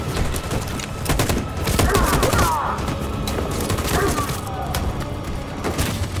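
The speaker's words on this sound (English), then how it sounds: "That machine gun is taking down everything that moves!" Machine gun fire in the Detroit: Become Human video game, dense rapid bursts with booming impacts in a loud, chaotic battle, with voices shouting over the gunfire.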